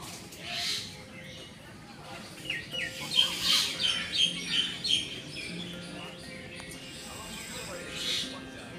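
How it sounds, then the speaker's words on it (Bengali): Birds call in the garden of a historic temple complex, a run of several short, sharp chirps midway amid a soft outdoor hush, with a person talking over it. "এখনও কিছু কিছু পাখির ডাক আপনারা শুনতে পাচ্ছেন।"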